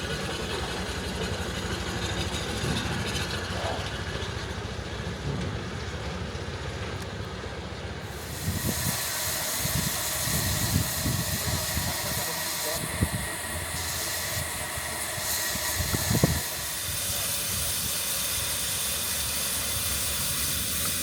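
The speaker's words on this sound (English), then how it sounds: "a 1927 Foden steam truck is driving around the streets of the town" A 1927 Foden steam truck rolls through town streets, with a steady broadband hiss and engine chuffing that turn louder and closer partway through, plus bursts of mechanical knocking and rumble as it passes.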